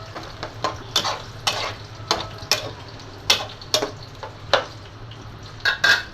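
Eggplant, potato and tomato go into a pan of sizzling curry masala, with a steady fry hiss under repeated sharp clacks and scrapes of a spoon against the pan, close up and with no one talking.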